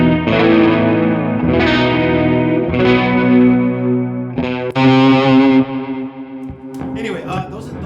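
Clean electric guitar through a chorus effect on a Fillmore 50 amp, playing ringing sustained chords and notes with a shimmering, wavering quality, loud and close, ending in a few brighter plucked notes.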